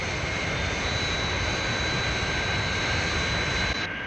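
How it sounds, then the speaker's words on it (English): Fireflash airliner flying, a loud continuous jet engine roar with a steady high whine, sustained throughout without voices. "That's certainly some aircraft."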